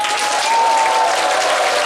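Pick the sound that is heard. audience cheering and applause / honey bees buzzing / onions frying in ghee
audience cheering and applause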